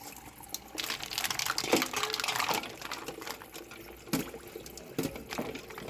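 Items dropped and shifted in a bowl of ice-cold water during food prep, with close, irregular splashing and sloshing bursts, a few sharper plunks, and no talking.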